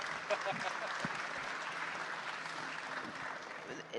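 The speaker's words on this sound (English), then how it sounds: "Give a round of applause. We could clap for that." Audience applause at a talk about Bitcoin in El Salvador, a steady wash of clapping over about four seconds, moderately distant and even in level, with some talk mixed in.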